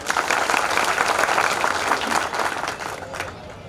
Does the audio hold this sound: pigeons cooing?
no